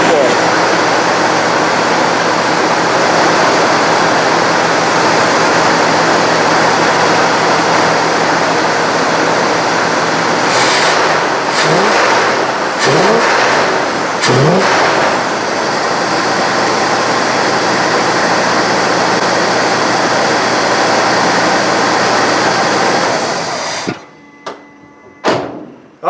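A Cadillac engine fitted with a Quadrajet carburetor runs on fast idle as a loud, steady, close roar that holds for most of the stretch, broken by a few brief clunks, before cutting out near the end.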